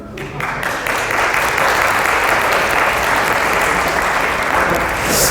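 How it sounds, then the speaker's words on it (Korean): Dense, continuous applause from an audience at a winter camp lecture, loud and sustained throughout, starting with a few separate claps before swelling into a full wash of clapping. "이게 사실 이불 갰다라고 박수 받을 일은 아닌데"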